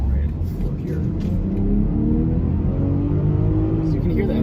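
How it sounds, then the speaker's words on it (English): Inside a 2021 BMW X7 xDrive40i, the engine drones and rises steadily in pitch as it climbs a steep hill, a loud continuous rev heard from the cabin. "So you can hear the engine."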